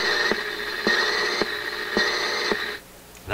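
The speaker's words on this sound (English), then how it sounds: "That sound you just heard is the power supply in my office computer." An AM radio picks up interference from an office computer's power supply about 20 to 25 feet away. It comes through as a steady whining buzz with rhythmic clicks about every half second, then cuts off abruptly near the end.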